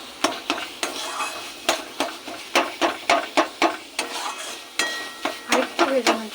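Gourd peel paste frying in oil, stirred with sharp, rhythmic spatula scrapes against the pan over a low sizzle, close up and without voices.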